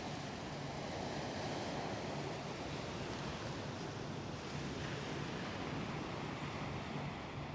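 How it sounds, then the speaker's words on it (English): Steady roar of wind and breaking surf on a snowy Coney Island beach in winter, a continuous dense wash of noise with no clear pauses. "The wind's picking up slightly."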